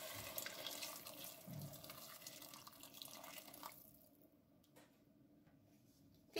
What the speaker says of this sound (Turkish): Üzerine geçecek kadar kaynar su ekliyorum.